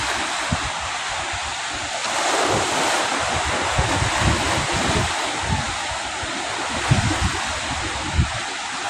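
Large waves breaking and surging along the Manila Bay shore at Navotas in drizzly weather, a steady loud wash of surf with wind noise buffeting the microphone and heavier crashes recurring every second or two, no voices.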